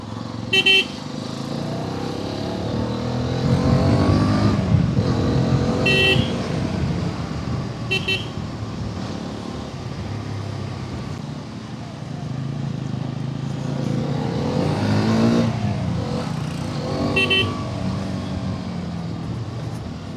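A Hero Xpulse 210 motorcycle rides through city traffic with a steady engine drone, surrounded by passing vehicles and several short honks of car horns, some nearby and some distant.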